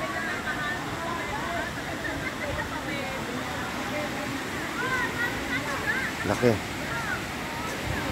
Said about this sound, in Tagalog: maririnig mo yung pagaspas ng tubig